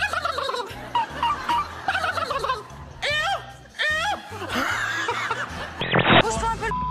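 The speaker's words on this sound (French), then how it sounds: "Le dindon." A turkey gobbles loudly and close in repeated bursts of rapid, bubbling calls, with some laughter-like sounds mixed in among them.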